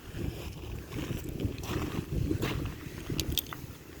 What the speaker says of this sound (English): It is really windy and cold out here today.